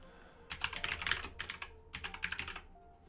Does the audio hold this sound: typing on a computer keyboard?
yes